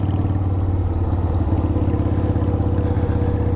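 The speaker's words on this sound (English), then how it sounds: "I don't like that gear at that speed, so we'll gear down to second." A motorcycle engine runs steadily close by as the rider gears down to second, a continuous low throbbing drone with mild clatter throughout, no voices.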